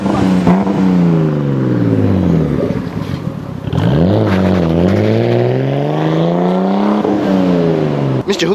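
A car engine revs hard and loud with rising and falling pitch sweeps, then pulls away, the unlicensed driver's engine note dominating close by with brief dips between bursts of acceleration.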